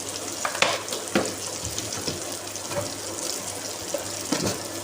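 Potatoes with red chilli and turmeric frying in a pan for Pakistani aloo palak, stirred with a few distinct scraping clacks over a steady close sizzle.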